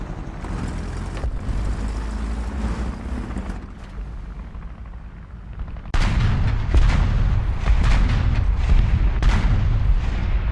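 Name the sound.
six-barrel gun firing in War Thunder video game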